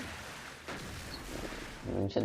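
Turbo Tsunami special-move shot in the video game Inazuma Eleven GO Strikers 2013, a loud booming blast with rumbling energy that builds through the clip and ends in a sharp burst.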